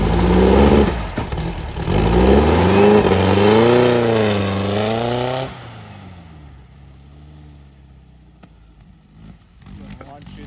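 A 1970s VW sand rail engine revs loud and close, its pitch climbing and wavering through several throttle swells before cutting out to a quiet idle rumble, with voices talking around it.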